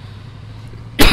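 One loud, harsh cough erupts close to the microphone at the end of a quiet stretch with a low steady hum, from a player during a live Tanki Online gaming session.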